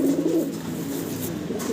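A pair of black short-face fancy pigeons coos steadily at close range: a low, throaty, rolling murmur that continues with no talking over it.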